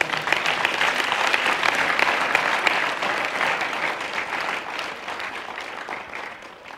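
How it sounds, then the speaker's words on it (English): A church congregation claps in praise during a sermon, a dense, continuous burst of many hands that stays strong for several seconds and then eases slightly toward the end. "give him a clap of praise"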